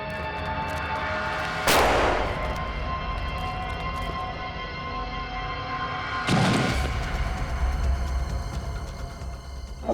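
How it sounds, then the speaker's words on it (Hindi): Two loud explosion bursts in a TV crime drama scene, each a sudden broadband blast with a rumbling tail, spaced several seconds apart over a dense, busy soundtrack. "ठीक है, उड़ा देता हूँ।"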